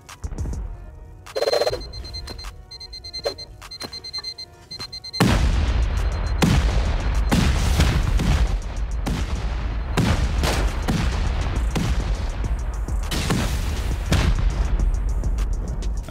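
Rocket explosions and turret gunfire during a video game raid: a few scattered shots at first, then a long, loud, dense barrage of booms and rapid fire continuing without pause.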